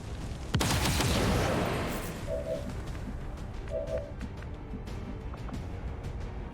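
Gunfire in the XCOM 2 War of the Chosen video game during an assault on an Assassin stronghold: a sharp, loud burst crackles for about a second and a half, then fades into quieter rumbling game ambience with faint tones.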